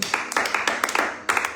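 Church congregation clapping during a French-language sermon, a short burst of quick rhythmic claps, close and fairly loud.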